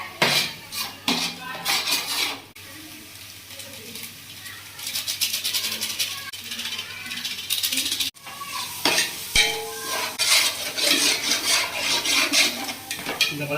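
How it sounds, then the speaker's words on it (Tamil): Green chillies tossed into frying masala for home chicken biryani sizzle in a pan while a metal spoon scrapes and clanks steadily against the pot, with brief gaps in the stirring. "பச்சை மிளகாய் அப்படியே போட்டுருவோம்"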